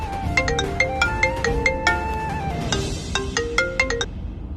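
A mobile phone ringtone in a Tamil TV serial scene, a clear, close electronic melody of repeated bright tones played twice in a row.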